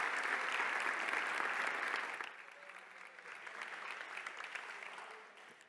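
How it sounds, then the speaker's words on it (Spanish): Audience applause at a talk on artificial intelligence in Tenerife, a strong burst of clapping from a seated crowd that fades after about two seconds into a softer, scattered patter before dying away. "¿Le podemos dar un aplauso?"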